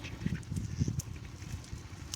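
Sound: ducks on a farm

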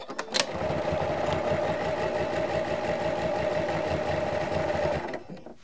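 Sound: sewing machine stitching quilt

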